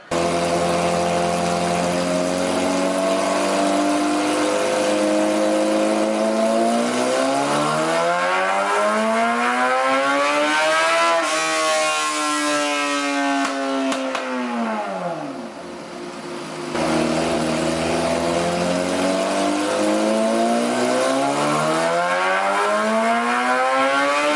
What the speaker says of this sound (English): so we just finished up the dyno pull